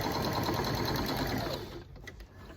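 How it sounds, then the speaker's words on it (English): A sewing machine stitches diagonally across a fabric binding strip for a quilt, a loud steady whirring hum for about a second and a half that then slows and fades into quieter mechanical clicks. "I'm taking it to the machine, and I'm going to sew diagonal across that strip"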